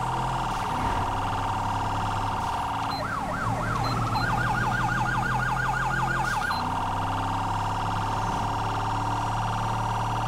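A police car siren in the GTA V video game wails over a steady engine drone, then switches to a fast yelp for a few seconds before cutting off.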